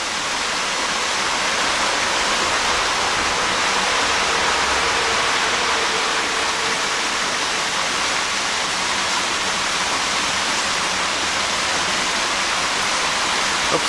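A flowing forest stream with water striders, giving a steady, dense wash of rushing water that stays loud and even throughout, with no voices.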